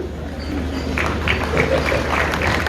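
Wedding guests applaud the groom, a steady wash of clapping that holds at an even level throughout.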